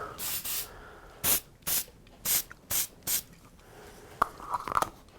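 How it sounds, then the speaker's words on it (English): Several short bursts of hissing spray in an irregular rhythm, close by, followed by a few faint clicks and rattles. "And let's spray those."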